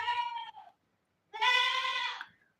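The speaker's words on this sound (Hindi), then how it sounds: "हमारी बकरियों की आवाज सुन रहे हो? साथ में बकरियों के बच्चे भी" Farm goats and their young kids bleat nearby: two clear, nasal bleats with a silent pause between them and no talking.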